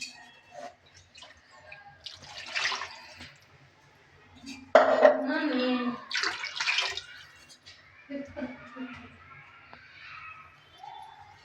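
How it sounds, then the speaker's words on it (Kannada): Water poured from a vessel into ground fish curry masala in a pot, a soft splashing pour in the middle with light clinks of kitchenware before and after, while someone talks. "ನೋಡಿ ನಾನು ಎಷ್ಟು ನೀರು ಹಾಕ್ತಾಯಿದ್ದೀನಿ ಇವಾಗ"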